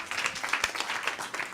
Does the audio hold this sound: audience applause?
yes